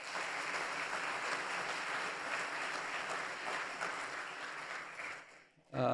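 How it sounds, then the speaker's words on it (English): Audience applause at an annual membership meeting, sustained dense clapping from a large room for about five seconds, then fading out abruptly before a brief sound at the end. "Please give them a round of applause"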